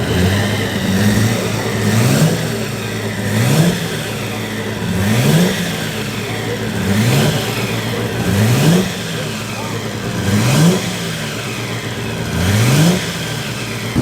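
An Austin Heavy 12.4 special vintage car engine revs hard up a hillclimb, rising and falling in repeated gear-change sweeps, loud and close throughout.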